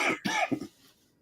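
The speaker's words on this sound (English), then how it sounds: "You just said you are very well and you are coughing." Two or three quick, close coughs in a short burst, followed by quiet.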